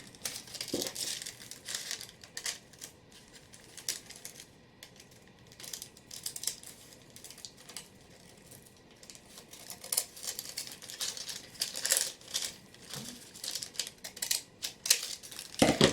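Scissors cut through paper along an edge while making paper bag pockets for a lavender-and-lace folio; close, crisp snipping and crinkling comes in irregular bursts, with no one talking.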